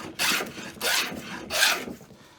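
A number 5 hand plane takes thick, heavy shavings from a wooden board, three long rasping strokes in steady rhythm, each a loud broadband swish with brief pauses between, close and alone.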